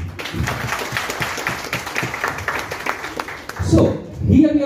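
Audience clapping at an award ceremony during a cultural event, a steady patter of many hands through the room, with louder voices and talk rising near the end.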